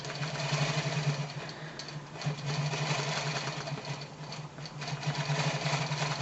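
A longarm quilting machine stitches a pantograph pattern with a steady, rapid mechanical hum and needle chatter, slowing slightly at points before resuming, close and continuous with no talk.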